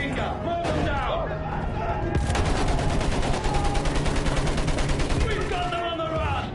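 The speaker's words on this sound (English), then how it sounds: "Use that machine gun! Blow them down!" Rapid machine gun fire rattles in sustained bursts during a Battlefield 1 battle, loud and close, with shouted voices and other gunfire around it.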